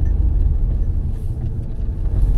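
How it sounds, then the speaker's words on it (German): A car rolls over a cobblestone road, its low rumbling drone steady and close with faint bumps from the suspension working, no talking. "Jetzt fahren wir hier durch diese komischen Pflastersteinswegenstraße, keine Ahnung. Die Stoßdämpfer erstmal was zu tun."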